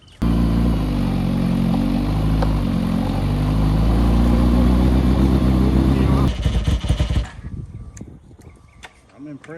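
A Kawasaki ZX-7R motorcycle with a 1000cc engine swap running loud and close, a sustained steady engine roar that cuts off abruptly into rough sputtering and clatter as it dies down.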